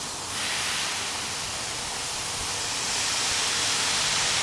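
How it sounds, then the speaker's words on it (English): Loud, steady hiss of a wet sponge sizzling on a hot Lee 457 bullet mold used with a Lee 4-20 melter, continuous and unbroken for several seconds with no talking. "a nice wet sponge and let it sizzle like this"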